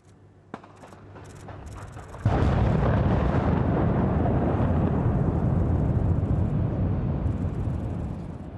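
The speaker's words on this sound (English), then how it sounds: "A series of controlled explosions brought down the 8 114-metre high structures at Cottam Power Station" Controlled explosions demolish eight 114-metre cooling towers at the decommissioned Cottam Power Station in Nottinghamshire: sharp cracks of charges go off, then a sudden heavy boom swells into a long, loud, rolling roar of collapse heard from a distance.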